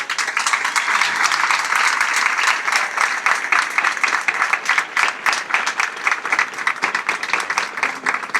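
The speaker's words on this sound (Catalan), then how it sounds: "el aplaudiment per a ella" Sustained audience applause at a patronal festivities presentation in Benaguasil, greeting the festival queen. Dense, steady clapping fills the whole stretch, loud and continuous without pause.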